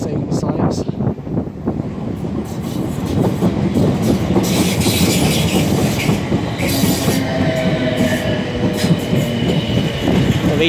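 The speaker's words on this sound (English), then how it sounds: "707-004 on the rear, the 707-006 at the front. It's just pulling into the siding at" A Class 707 electric train pulls into a siding at Clapham Yard, its wheels clattering over rail joints and squealing faintly as the carriages roll past close by in a steady rumble.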